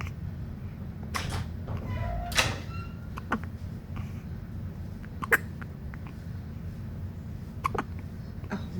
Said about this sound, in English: He got the hiccups.